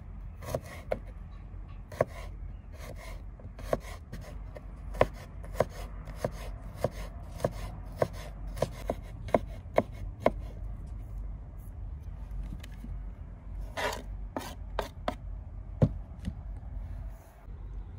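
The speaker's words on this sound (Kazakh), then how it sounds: "Чеснокты майдалап турап аламыз" A knife finely chops garlic on a board in quick, uneven bursts of sharp taps, close and distinct over a low rumbling background, with no speech.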